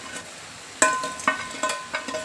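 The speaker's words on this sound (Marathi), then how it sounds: "आपण याच्यामध्ये आता हे सोया चंक्स घालून घेऊया" Soya chunks stirred into hot oil in a pan, giving a few sharp clinks of a spoon against the pan over a light, crackling sizzle, with no voices.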